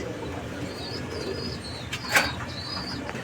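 Two female pigeons sit on eggs at a pigeon farm, cooing in soft, low, repeated calls nearby, with a brief sharper chirp and faint background bird noise, no talking.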